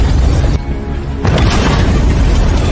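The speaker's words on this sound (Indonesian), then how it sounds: "Sadar bahwa sebentar lagi akan terjadi ledakan" A loud booming gas leak explosion erupts close by, a dense low roar of explosions with a second heavy burst after a brief dip.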